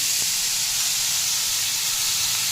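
Food frying in a pan with a little salt added, a steady close sizzling hiss that fills the short moment without any talking.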